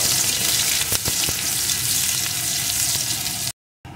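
A dried red chilli and crushed garlic fry in hot oil for red amaranth greens, a loud, dense, close sizzle with a couple of sharp spatters before it cuts off abruptly near the end.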